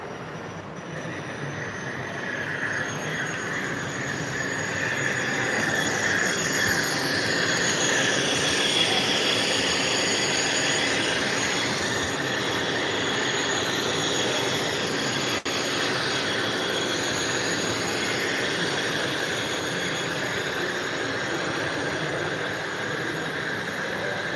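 A model train runs along a long model railway layout, its wheels squealing and grinding steadily through curves, the sound building and holding at a constant loudness with no talk.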